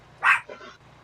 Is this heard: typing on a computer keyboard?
no